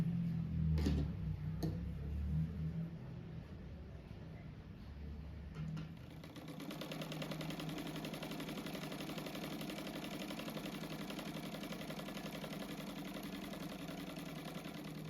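A sewing machine stitching a fabric strip for a cushion, with a few handling knocks up front, then a steady rapid mechanical whir that runs continuously at close range and no talk.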